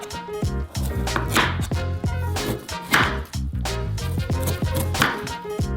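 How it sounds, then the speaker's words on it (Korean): Rapid, repeated knife chops striking a board, steady rhythmic cutting through frozen bacon, close and loud with no voices. "냉동 베이컨을 잘라서 접시에 놓은 다음"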